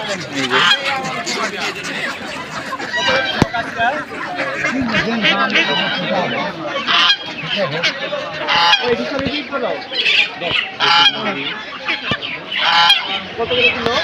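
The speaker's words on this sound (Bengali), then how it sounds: "ক্যাম্বেল হাঁস" Campbell ducks at a poultry market, loud repeated quacking and honking close by, mixed with market chatter and people talking throughout.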